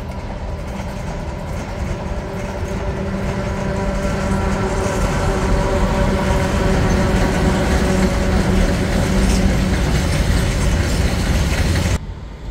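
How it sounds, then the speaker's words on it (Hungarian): A train runs steadily along the rails, a dense continuous rumble with faint rhythmic clatter, heard from inside and building slightly louder before cutting off near the end. "Nem oly sokára ez a vonat ment is vissza Szlovákiába"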